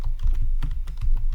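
Keys on a computer keyboard are tapped in a quick, uneven run of close, clear clicks with soft thumps, heard alone with no talking.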